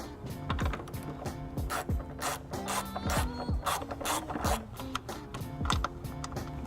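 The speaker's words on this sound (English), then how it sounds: "Next, I'll need to remove these two 10mm bolts using my socket." A socket ratchet loosens two 10mm bolts on a 2015 BMW X1, giving rapid, close metallic clicking in quick bursts with brief pauses, continuous through the stretch with no talking.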